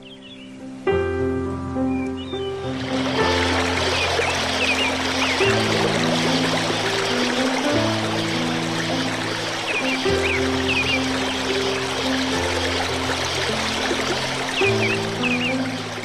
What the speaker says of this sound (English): Kelinkanda is more popular for the mystic Markelia waterfall.